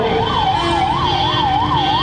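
Ambulance siren wailing steadily in a fast, regular up-and-down warble, loud and close, sounding through a Ganesh immersion procession crowd, with no talk over it.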